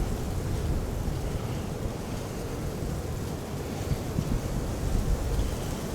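Strong wind buffets the microphone on a cold, very windy day outdoors, a steady dense low roar with gusty surges throughout and no speech.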